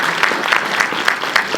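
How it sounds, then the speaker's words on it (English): An audience at a "Just Mercy" film screening gives a panel a round of applause, short, brisk clapping with a few sharper individual claps standing out. "Let's give them a round of applause."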